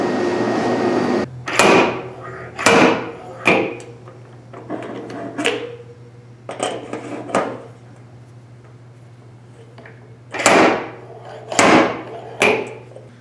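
Hammer tapping on a car body panel during a Bondo repair on a sunroof patch delete of an Oldsmobile Cutlass, with sharp, close metallic knocks in loose clusters over a steady low hum.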